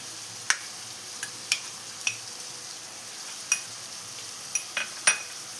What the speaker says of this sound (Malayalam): ഇനി ഇതിലോട്ട് നമുക്ക് ഷെസ്വാൻ സോസ് ഒഴിച്ചു കൊടുക്കാം.